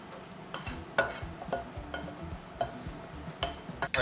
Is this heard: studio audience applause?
no